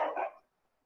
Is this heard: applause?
no